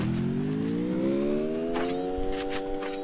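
A car engine in the Free Fire video game revs upward, its whine climbing steadily in pitch over a few seconds, loud and close, with brief clatters on top.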